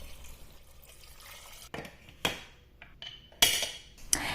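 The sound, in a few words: draining water from soaked kidney beans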